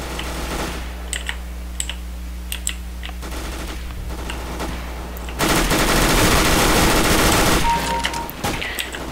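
MP9 submachine gun in the Counter-Strike video game firing in sprays, with scattered short bursts followed by a louder sustained burst, mixed with rapid keyboard typing clicks throughout.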